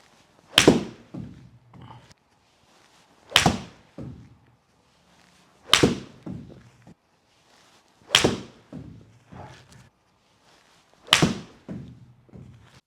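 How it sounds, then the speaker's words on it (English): Five crisp, loud club strikes on a TaylorMade Speedsoft golf ball, each a sharp close crack followed by faint lingering sounds, spaced roughly every two to three seconds with quiet between. "can feel that ball compressing and exploding off of the face"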